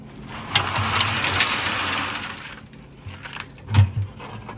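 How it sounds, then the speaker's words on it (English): A concrete mixer drum turns with stone tipped into it, a close, loud rumbling churn with rattling and clattering of stones, easing off and then a heavy knock and clunk near the end. "So all the stone go into the mixer"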